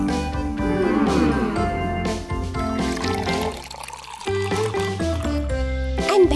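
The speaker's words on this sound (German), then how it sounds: "Ein Becher mit Wasser?" Water splashes and trickles into a cup, pouring over several seconds with soft liquid gurgles, set against continuous background music.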